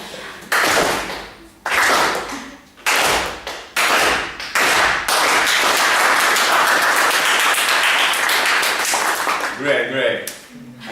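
A Toastmasters meeting audience claps hands in several short bursts, then in one long sustained round of applause, loud and close, with some talk during the claps.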